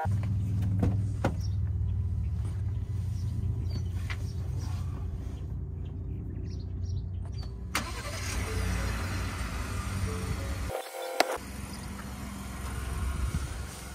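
Someone climbs into the cab of a 2022 Ford F-150: outdoor rustle and movement, then the door shuts and the sound turns to a muffled cabin hush, followed by a brief thump.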